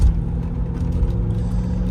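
Land Rover Discovery 1 with a V8 engine running, a steady low rumble with a dense throaty drone, close and continuous with no voices.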